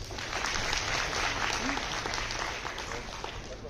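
An audience at a school awards program applauds a student who ranked second in 10th class, steady sustained clapping filling the room, with voices faintly mixed in.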